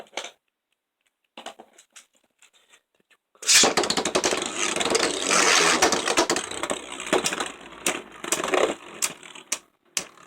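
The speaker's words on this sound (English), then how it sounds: "let's go and hand spin this guy" A Beyblade Burst Mirage Fafnir top, hand-spun, whirs and clatters in a loud, sustained metallic rattle with rapid ticking contacts, after a few faint taps at the start.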